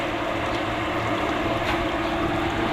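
A deep well water pump motor runs during installation, giving a continuous, loud, even mechanical hum with broadband noise and no voices over it.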